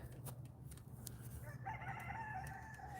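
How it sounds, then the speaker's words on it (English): A rooster crows faintly in the distance outdoors at a firewood-cutting spot in a field, one drawn-out call rising over a low background rumble. "The chickens are singing too."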